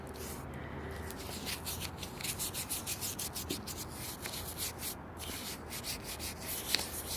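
Cleaning goop rubbed by hand into a heavily dirty, moisture-damaged Pfaff 130 or Singer 500A sewing machine: steady close scrubbing and rubbing strokes in an uneven rhythm, soft and continuous with no voice.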